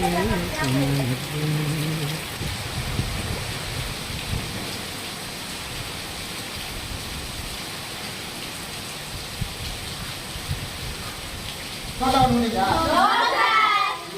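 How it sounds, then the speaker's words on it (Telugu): Heavy rain from Cyclone Fengal pours steadily onto surfaces, a dense, constant hiss. Voices talk over it at the start and end. "ఉదయం వర్షం కురుస్తూనే ఉన్నారా"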